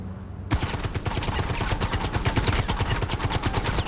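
Sustained automatic gunfire in a Star Citizen firefight breaks out abruptly and keeps going as a fast, loud, steady stream of shots.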